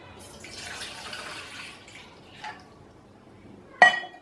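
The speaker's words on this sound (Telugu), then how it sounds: "స్టవ్ వెలిగించుకొని గిన్నె పెట్టుకొని ఇందులో ఒక 2 గ్లాస్ వాటర్ పోయాలి" Two glasses of water pour into a pot on a stove, a steady close splashing rush that lasts a couple of seconds. A single sharp metallic clank of the vessel follows.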